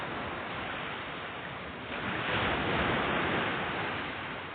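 Cold natural river water flows steadily into a pool outdoors, a continuous broad rushing wash that swells slightly midway with no talk over it.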